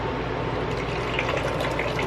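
Runny liquid poured from a bag into a container, a steady wet splashing and gurgling fill that runs continuously and close for the whole stretch, with no talk over it.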